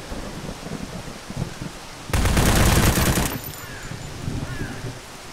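A burst of rapid automatic gunfire in the post-apocalyptic looter shooter Zero Sievert rattles for about a second as a dense, loud volley, with quieter scattered game noise before and after.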